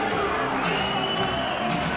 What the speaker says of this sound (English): he too gets the cheers and the boos